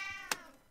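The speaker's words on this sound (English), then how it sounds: "Oh my gosh, there's a cat." A single short cat meow in Call of Duty Black Ops 3 zombies, on a custom Mars map, rings out clearly over a faint, steady game background.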